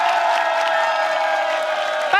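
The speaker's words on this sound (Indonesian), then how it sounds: "Tepuk tangan." Studio audience at a televised Indonesian election campaign event applauding and cheering for candidate supporters, a dense continuous wash of clapping and crowd noise throughout.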